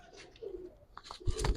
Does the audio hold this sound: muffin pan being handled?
no